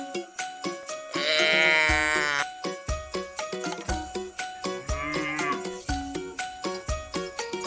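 A cow moos in a children's counting song, one long drawn-out low call followed by a shorter one, set against bouncy rhythmic music with steady beats.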